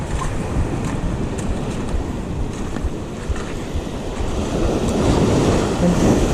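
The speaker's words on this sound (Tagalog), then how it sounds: "Sobrang lakas ng alon." Strong waves surge and wash along the coast at Burgos, Pangasinan in a steady, broad roar, with wind buffeting the microphone and no voices.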